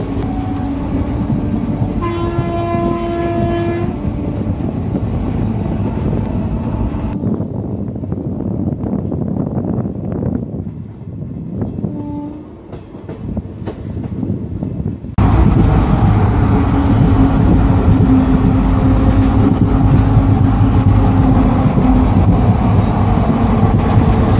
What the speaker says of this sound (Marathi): गाडी संख्या 11414 निजामाबाद एक्सप्रेस